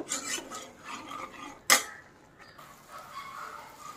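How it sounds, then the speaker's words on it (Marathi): Masala and red chilli chutney roast in oil in a pan for Kolhapuri misal, heard as quiet, close scraping of a spoon against the pan with one sharp metallic clink. "आता हा मसाला आणि चटणी चांगली भाजून घ्यायची आहे तेल सुटेपर्यंत."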